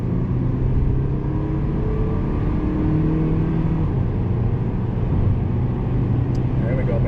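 A 2007 Honda Civic EX pulls hard up to speed on a freeway with its sunroof open. Steady engine drone and road roar fill the cabin, loud and continuous throughout.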